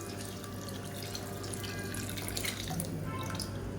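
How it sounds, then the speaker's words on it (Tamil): Water poured into a pot of manathakkali keerai kuzhambu, a steady close splashing and trickling that runs without break through the whole stretch, with no talk over it. "இப்போ குழம்புக்கு தேவையான தண்ணி சேர்த்துக்கலாம்"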